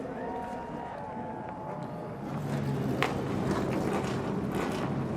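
Race car engines in the 54-car field of the 2016 Rolex 24 endurance race at Daytona International Speedway firing up: a rising, dense mechanical roar building midway and holding steady, with crowd noise beneath.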